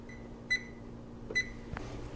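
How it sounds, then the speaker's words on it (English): An oven timer being set for a 220 degree oven while bread cubes for eggnog bread pudding crisp: two short, bright electronic beeps about a second apart, followed by a soft click over a low kitchen hum, with no talking. "set the timer."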